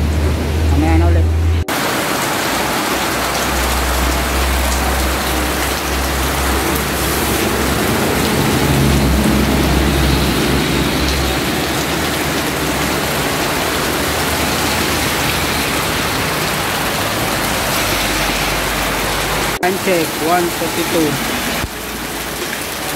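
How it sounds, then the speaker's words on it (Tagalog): Heavy rain pours down in a steady, dense roar near Taal, Batangas, loud and continuous, with someone speaking briefly over it and a low rumble of traffic underneath. "Ang lakas pa rin ng ulan"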